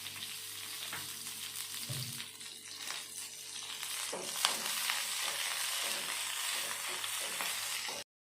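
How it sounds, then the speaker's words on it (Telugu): Green chillies fry in a pan for coconut chutney with a steady, close sizzle and crackle that runs almost without a break, plus a few brief stirring scrapes and no talking. "ఇప్పుడు పచ్చిమిర్చి వేయించుకుందాం."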